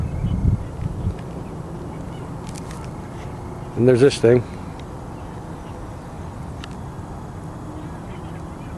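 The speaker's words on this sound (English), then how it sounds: "Mostly the only sounds you hear are that of seagulls and Canadian geese." A short burst of Canada geese honking rises briefly over steady outdoor woodland ambience by the Delaware River in Andalusia, Pennsylvania, with a voice speaking near the start.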